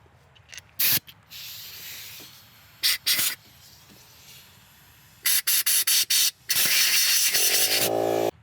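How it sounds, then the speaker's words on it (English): Compressed air blasts out a threaded hole during a Time-Sert thread repair on a Subaru Forester, in loud hissing bursts: one short, a few stuttering puffs, then a long sustained blow, close and without talk. "we'll go ahead and blow the hole out once more."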